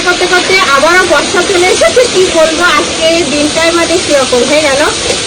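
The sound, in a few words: chicken being sautéed with spices in a pan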